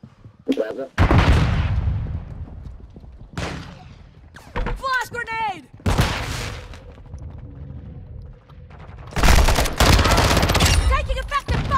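Rapid gunfire bursts and a grenade blast from a first-person shooter game, loud and intermittent across the stretch, mixed with a player's excited voice talking over the action.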